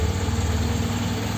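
A Lada Oka car engine runs in neutral with a slight rise in revs, producing a steady, close, buzzing hum that stays even throughout, with no talking.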